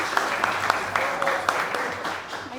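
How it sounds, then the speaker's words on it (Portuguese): An audience applauds for mestre Mesquita at a talk on Black heritage and culture, a dense steady wash of clapping with a few sharper individual claps standing out, fairly close and sustained throughout. "nosso querido Mesquita, mestre Mesquita, uma salva de palmas"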